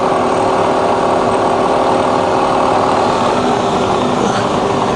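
A Bridgeport milling machine fitted with a Goodwin DRO runs steadily at 2000 RPM, giving a loud, smooth, continuous motor and spindle hum with no talking.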